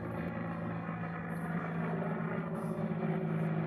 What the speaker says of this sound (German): Wenn wir hören jetzt den Helikopter noch.